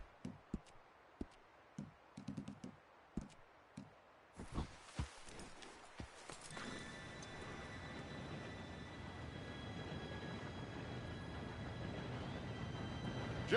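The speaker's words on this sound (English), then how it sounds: "Train should be here any minute now." A train approaching in Red Dead Redemption 2: scattered footsteps and taps at first, then a steady, swelling rumble with a high whine that builds louder toward the end, with no talk.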